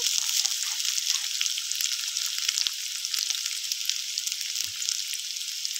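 Chopped onion frying in oil with five-spice, garlic paste and green chilies in a pan for a spicy crab curry, a continuous close sizzle with occasional crackles and a light stir, no talking.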